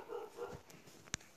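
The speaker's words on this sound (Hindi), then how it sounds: "पड़ोस के कुत्ते बहुत भौंकते हैं।" Neighbourhood dogs bark faintly in the distance, a few soft, muffled barks early on, then a single sharp click near the end, with no talking.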